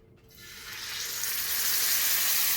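Steaks hit a hot pan of melted lard and butter, and a loud close-up sizzle builds within half a second into a steady, dense frying hiss.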